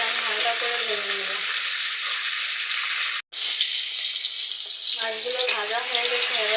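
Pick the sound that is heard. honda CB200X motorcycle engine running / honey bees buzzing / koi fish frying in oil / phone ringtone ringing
koi fish frying in oil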